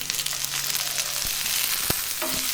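Tomato and shallots sauté in hot oil for Chettinad mushroom kuzhambu, giving a steady close sizzle with a few sharp clicks and clatters near the end.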